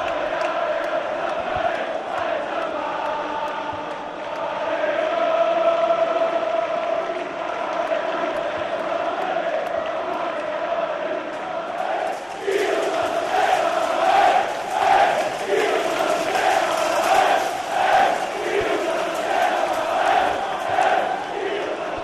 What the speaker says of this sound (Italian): l'incitamento dei tifosi della curva nord